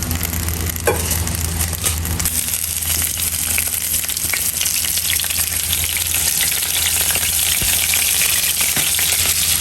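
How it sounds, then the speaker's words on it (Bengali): Minced garlic fries in hot soybean oil, a loud continuous close sizzle that crackles steadily for the whole stretch, with no talking. "এখন এই তেলের মধ্যে রসুন কিমাটা দিয়ে ভাইজে নিব, তারপরে এটা গার্লিক অয়েল হয়ে যাবে।"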